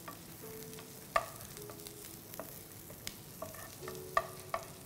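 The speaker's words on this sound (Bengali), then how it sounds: "প্রথমে রসুনটা একটু ভেজে নিতে হবে, তারপর পেঁয়াজ" Garlic frying in mustard oil in a pan, a soft steady sizzle broken by sharp utensil clicks and scrapes at irregular intervals, close but quiet with no talking.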